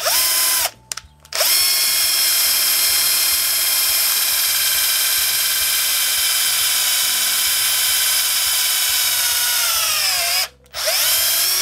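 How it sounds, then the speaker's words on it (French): Parkside countersink bit drilling and countersinking fir wood, a loud steady high-pitched power drill whine running nearly continuously, broken by two short pauses where the motor stops and restarts. "je vais directement percer et faire le chanfrein à l'aide de la fraise à noyer"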